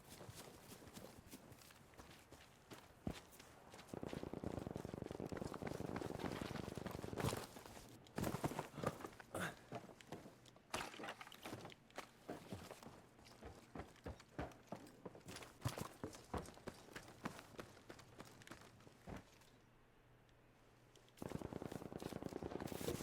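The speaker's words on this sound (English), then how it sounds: "Footsteps are so loud in this game." Footsteps in Battlefield battle royale mode, a rapid, loud run of close steps across most of the stretch, broken by brief quiet gaps, with game ambience and scattered sharp hits alongside.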